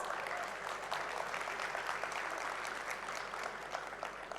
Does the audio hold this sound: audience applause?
yes